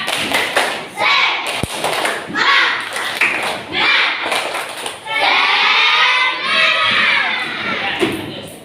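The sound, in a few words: class doing a spirit clap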